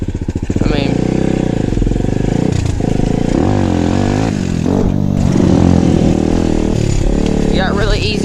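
An SSR150R pit bike engine putters at low RPM while being ridden, a close, steady, slightly varying drone with someone talking over it.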